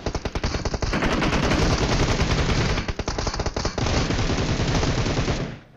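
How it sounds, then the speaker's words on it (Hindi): Loud, rapid automatic gunfire rattles almost continuously in a PUBG-style battle royale match, a dense close burst that barely pauses before cutting off just before the end. "फिलहाल पीछे से फायरिंग आती है"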